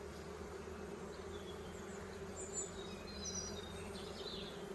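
Honey bees swarming over hive frames full of capped brood and honey, a colony recently removed from an attic, make a steady, soft, continuous buzzing hum close by, with no voices.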